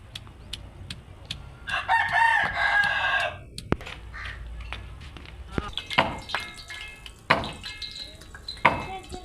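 Chickens in a village yard during an evening cooking routine, with a rooster crowing loudly in a long harmonic call and scattered clucks and squawks around it, close by, while a person talks intermittently.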